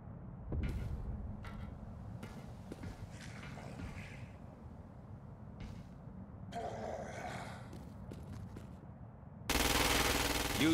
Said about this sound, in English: The ordnance you now hold is a standard issue agency assault rifle.